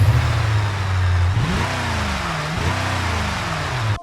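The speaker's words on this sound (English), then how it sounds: "let's fire this car up real quick. It's the usual 4-liter or 4-ish liter V8" A 1984 Bruckell Legran with a 4.4-litre V8 idles with a deep, steady rumble, then gets blipped twice, the pitch swinging up and settling back each time, loud and close with no talk.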